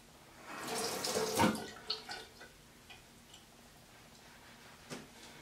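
Water runs from a tap onto curly hair for about a second, a soft close splashing rush, then trails off into scattered faint drips and small clicks with no talking.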